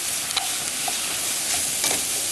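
Potatoes frying in a stone-coated skillet give a steady, close sizzle with a few faint scrapes and clicks from stirring, and no voices.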